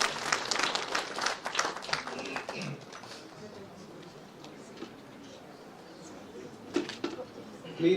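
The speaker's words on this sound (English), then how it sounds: "Please give them a big applause." Audience applause at the NIT Meghalaya Institute Day 2025 ceremony: a dense wash of clapping for the first few seconds that fades to a thin patter, then swells briefly again at the end.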